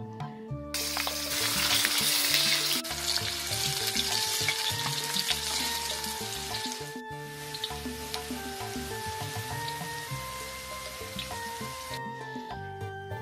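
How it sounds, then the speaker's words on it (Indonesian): Tomatoes frying in hot oil for sambal, a loud close sizzle with crackling spatter that swells early then settles into a steady hiss, along with some stirring and background tones. "Sabari urang sadaya ngagoreng tomat di minyak anu parantos panas tadi."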